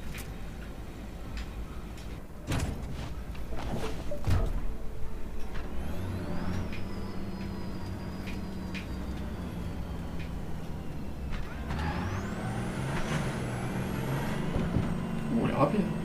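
A car in Cyberpunk 2077 with steady engine hum and rising electric whines as it speeds up, plus sharp clicks and thumps. Voices talk over it throughout.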